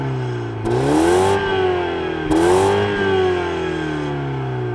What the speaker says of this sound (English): a couple of exhaust pipes, which don't sound amazing, but take a listen for yourself.